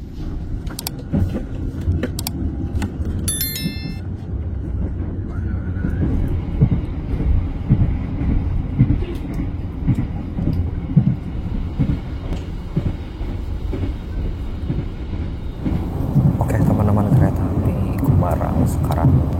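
Gumarang business class train pulling out of Cirebon station bound for Surabaya, a steady low rumble of wheels and carriage with faint clicks, heard from inside, while a person talks over it.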